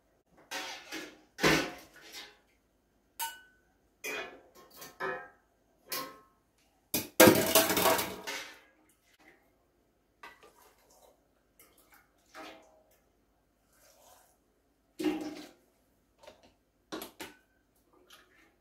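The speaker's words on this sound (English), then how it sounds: "I'm gonna go ahead and pour the liquid in" Canning liquid poured into jars of apples and cherries, in short separate bursts of splashing and trickling with quiet clinks and pauses between pours, one longer, louder pour in the middle.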